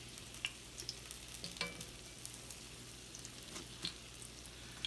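Cornbread frying in oil in a home kitchen gives a steady, soft sizzle with scattered faint pops and crackles over a low constant hum, and no talking.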